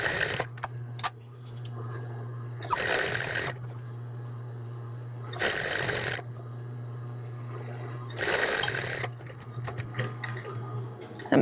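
A sewing machine edge stitches the folded-under armhole hem of a men's apron in short bursts, separated by pauses filled with a steady low hum and light handling noise.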